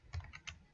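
Keys tapped on a computer keyboard while code is entered in Octave: a few quick, close clicks in a short burst, with no talking.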